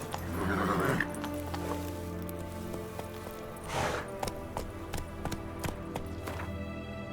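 Horse sounds from The Witcher 3 video game: whinnying up front, then hooves clip-clopping in quick irregular bursts over a busy in-game soundscape of music and effects, fairly close and steady in level.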